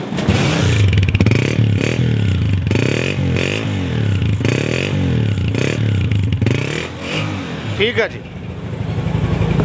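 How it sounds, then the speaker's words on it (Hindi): A 2016 Honda 125 motorcycle engine idles and revs steadily close by, with a person speaking briefly over the running motor. "अच्छा साउंड डिस्प्ले कर रही है बाइक होंडा 125 मॉडल 16"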